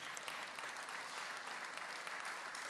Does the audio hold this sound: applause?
yes